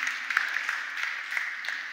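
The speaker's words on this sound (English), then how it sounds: "Let's give a round of applause." Congregation applause in a church, a steady soft wash of many hands clapping at moderate distance, continuous with no voices over it.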